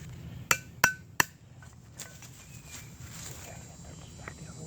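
A hammer drives a bent chisel into fatwood to split a wedge, with three sharp, ringing metallic blows in quick succession. Softer taps and rustling follow close by.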